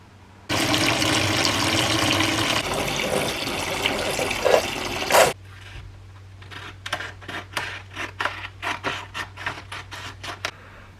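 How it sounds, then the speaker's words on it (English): Water gushes steadily from a tap for several seconds in a workshop preparing for wet flatting of a salvaged Ford Fiesta, then stops, followed by a series of short clicks and splashes. "let's run some water and get on with the job"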